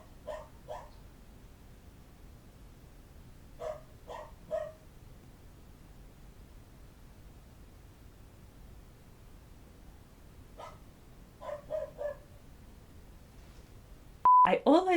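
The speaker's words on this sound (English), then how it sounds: "Could you just stop barking, please?" A dog barks in short bursts, single yips and quick doubles spread across a quiet room, moderately close, followed by a brief electronic beep at the end.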